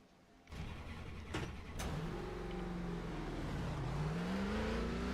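Number 21 Ford Mustang NASCAR race car in a racing video game at Chicagoland Speedway: the engine fires up and settles into a loud, steady droning roar with pitch rising and dipping as it revs.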